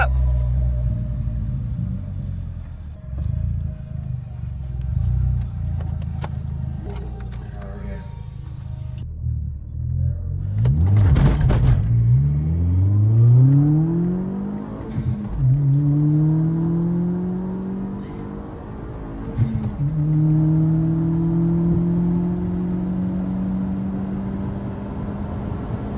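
A Mk4 VW Golf GTI launches down a drag strip, its engine rumbling at idle before revving hard through rising, sweeping gear pulls that fade into the distance, with talk inside the car.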